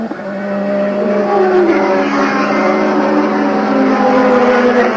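A 1987 Formula 1 car at Hockenheim during the German Grand Prix, its engine droning loudly and steadily at high speed before braking for the stadium section, heard alone without talk.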